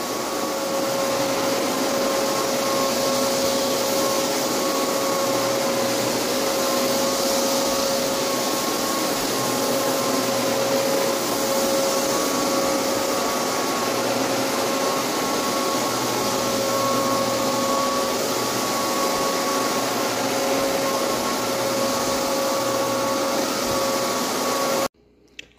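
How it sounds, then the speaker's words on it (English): A vacuum cleaner sucks up dust from a hardwood floor at close range, a steady loud whirring hum with a thin whine, cutting off abruptly at the end. "The vacuum is sucking it up."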